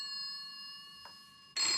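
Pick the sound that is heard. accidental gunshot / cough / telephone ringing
telephone ringing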